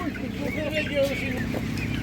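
At an open-air animal market, a young grown hen clucks softly in a few short calls amid busy background chatter and crowd noise.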